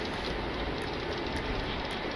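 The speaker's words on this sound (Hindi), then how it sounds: "हल्की हल्की बारिश की बूंदें गिर रही है अभी," Steady broadband patter of light rain heard from inside a moving vehicle, with a continuous low road rumble underneath and no voices.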